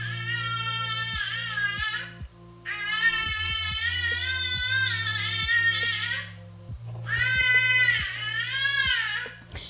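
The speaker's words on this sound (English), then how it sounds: "Sorry about the baby in the background." A baby cries in three long, wailing bursts, loud and close, over a steady low hum with faint rhythmic tapping beneath.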